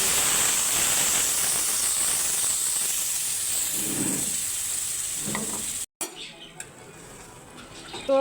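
Mango peels fried in hot oil with panch phoron, a loud, continuous sizzle and hiss with a few softer stirring knocks, then a sudden cut to a quieter, sparser crackle.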